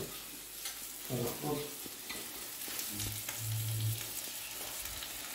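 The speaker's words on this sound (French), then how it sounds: "On va rajouter les escalopes." Chicken escalopes frying in a pan, a steady soft sizzle with stirring and scraping under brief clinks, fairly quiet and continuous.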